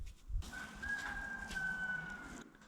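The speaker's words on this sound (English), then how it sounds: "Cock-a-doodle-doodle yourself, rooster." Rooster crowing in a workshop where fiberglass dirt bike side panels are being made, one sustained crow of about two seconds, moderately clear against a low background hum.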